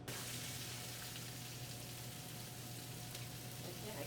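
Onion, celery and carrots sauté in a pan of olive oil with a steady, even sizzle that stays constant and fairly close throughout, with no talking over it.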